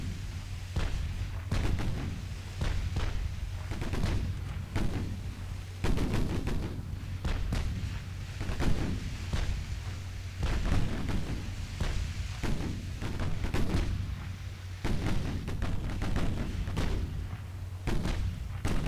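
Naval guns from British warships in a 1940 battleship duel off Norway in Ultimate Admiral Dreadnoughts fire again and again, a steady stream of booming thumps and cracks over a constant rumbling background, with no voices.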